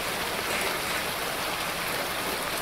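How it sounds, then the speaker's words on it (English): Steady hiss of rain falling indoors in a zombie video game, a dense close wash of water noise with no gaps and no voices. "It's raining indoors."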